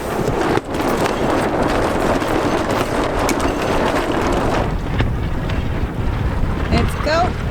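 A sailboat leaving an anchorage under sail alone, with strong wind roaring across the microphone and water rushing steadily alongside the hull, loud and continuous throughout.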